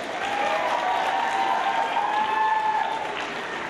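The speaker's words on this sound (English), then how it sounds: "Big round of applause for these folks." An audience at an anime convention masquerade applauds costume contestants, steady sustained clapping from a crowd lasting several seconds.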